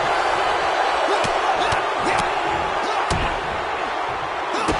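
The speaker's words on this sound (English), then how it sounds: "And a stomp to the gut." A wrestler stomping on an opponent's gut in the ring at a WWE SummerSlam event, sharp thuds of impacts on the mat standing out over a loud, constant arena crowd roar.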